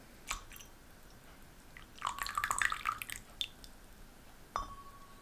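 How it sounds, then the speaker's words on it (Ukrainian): Water is poured off during tea brewing, a faint short trickle and a few soft drips and splashes in a quiet room. "зливаю воду."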